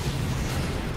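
A grenade blast in the shooter game Army of Two: The Devil's Cartel, a loud, dense, low rumbling roar that fills the whole second without a break.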